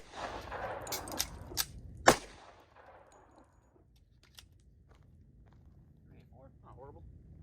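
Pistol gunshots at an outdoor range: a few sharp, loud cracks in quick succession, the last one strongest, followed by quieter ambient noise and faint clicks.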